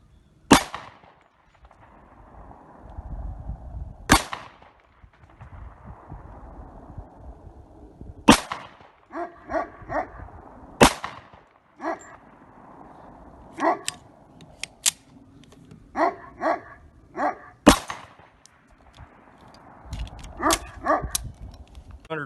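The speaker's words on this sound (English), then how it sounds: "We're still going to shoot them anyways." Pistol shots from a .45 ACP loaded with heavy 140 grain cast bullets, fired at a steel target: about eight sharp, loud reports at irregular intervals, each with a short ringing tail, and quieter clanks and clicks between them.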